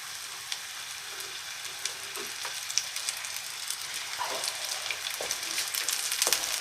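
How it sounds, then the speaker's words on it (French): Small foie-gras-stuffed oysters frying in hot oil, a continuous crackling sizzle close by that grows a little louder toward the end, with occasional soft pops and no speech. "Mon huile est chaude, je vais y déposer mes petites huîtres."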